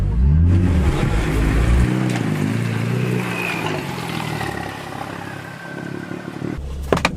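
A tuned BMW M2 sports car pulls up, its engine loud and throaty at first with a rising rev, then settling to a lower steady rumble as the car slows nearby.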